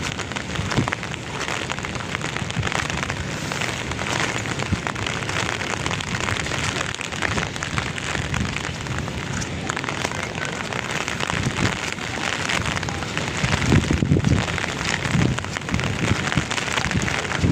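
Heavy rain from Typhoon Uwan pours steadily at the Esplanade along the Pasig River, a dense, loud, unbroken hiss of drops hitting surfaces with no talk.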